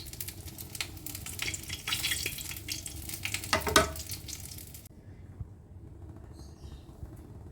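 Bele fish simmering in a pan with a bubbly sizzle and a few stirring scrapes, moderately loud at first, then cutting off to near quiet with faint chirps.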